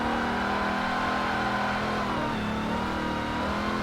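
A race car roars around Bathurst in Forza Motorsport 7, a Ford versus Holden battle, its engine holding a loud, sustained drone with the pitch shifting slightly as it pushes on.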